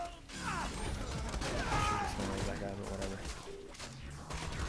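An explosion in the Borderlands 2 shooter, set off with the Axton Torguesplosions grenadier build: a sharp blast followed by clattering debris and weapon-fire effects, with game sound chaos continuing underneath.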